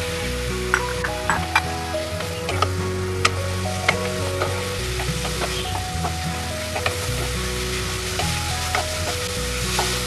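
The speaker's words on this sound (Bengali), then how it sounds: "গুঁড়ো মশলাগুলো একটুখানি ভাজা ভাজা হয়ে গেলে আমি এতে সোয়াবিনটা দিয়ে দেবো দিয়ে আর একটু জল দেবো" Spiced soybean chunks with water sizzle steadily in a pan for a soy Basanti pulao, a continuous close frying hiss over a low hum, with light clinks from stirring and no talk.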